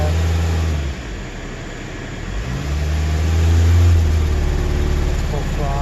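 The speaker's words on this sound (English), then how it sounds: "Just gonna let it keep misfiring." A 2010 Toyota Corolla S with a misfiring cylinder is held at full throttle, the engine droning loudly and unevenly, its pitch rising and dipping with a rough, stumbling note, close by.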